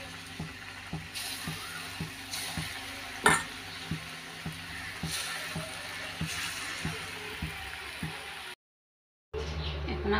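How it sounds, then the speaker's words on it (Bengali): Potatoes frying in oil in a home kitchen pan, a faint steady sizzle with periodic clinks and stirring taps, one sharper knock midway, then a brief silence and a louder hiss. "এখন আলুটা ভেজে নেব।"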